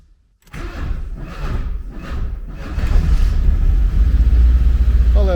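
A 1979 Porsche 924 engine runs after a brief silence, a low uneven rumble that builds and settles into a steady, fairly loud idle.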